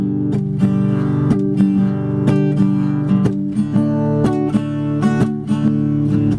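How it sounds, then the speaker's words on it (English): A guitar strummed with palm-muted, chunky chords in a steady rhythm, with occasional sharper accented strokes ringing out, close and loud. "I do what's called a palm mute."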